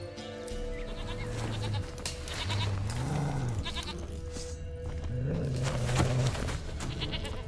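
A goat bleats in The Witcher 3 video game, giving several drawn-out, wavering cries in clear succession over soft ambient game sound, with no talk.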